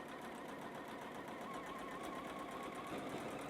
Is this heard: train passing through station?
no